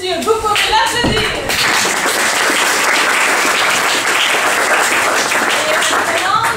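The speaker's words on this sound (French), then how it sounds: "Jane Wayne, mesdames et messieurs, vous pouvez l'applaudir." An audience at a stage show applauds a performer, loud, dense clapping that follows a brief voice at the start and then holds steady and close for several seconds.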